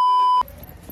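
A steady, loud censor beep tone holds for just under half a second, then cuts off abruptly into quiet room noise.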